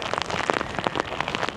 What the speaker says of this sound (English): Oh my god, I've got rain in my eyes.